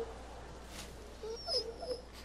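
Dog whimpering in The Walking Dead: Season 2 game, a few short high whines rising over a quiet, low game backdrop, faint and close.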